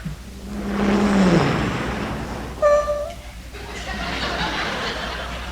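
A voice imitates a car creeping quietly up a driveway, a low rising engine hum that swells and fades, followed by a short squeaky whine, close and fairly loud.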